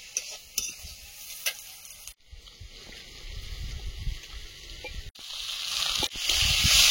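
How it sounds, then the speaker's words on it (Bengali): Mixed vegetable curry stir-fried in a pan, with scraping stir strokes over a soft sizzle that grows louder toward the end, broken by brief pauses. "সবজি ভালোভাবে কষিয়ে নিয়েছি"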